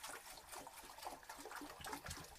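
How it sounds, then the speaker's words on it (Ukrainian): Faint, steady trickle of water in a rabbit hutch on a small farm, a soft continuous wash with no voices. "Они слышат водичку."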